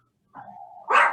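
A small indoor dog barks at a television, giving a drawn-out whining yelp that ends in one sharp, loud bark, close and alone.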